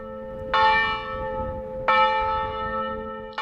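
Church bells ring out in two loud, resonant strikes that linger and fade, with a third beginning at the very end.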